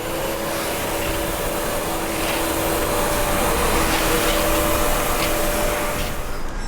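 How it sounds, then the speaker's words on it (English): A vacuum cleaner picks up silica dust on a construction site, giving a steady, loud whine and drone that holds evenly for several seconds with no talk. "Ensure that cleaning occurs regularly with the right products, like this vacuum cleaner"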